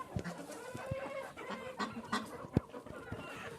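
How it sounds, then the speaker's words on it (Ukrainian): Broody hens cluck softly and repeatedly near their nests, with uneven short calls and scattered scratching sounds in a quiet setting. "Деякі курки квопчуть ходять"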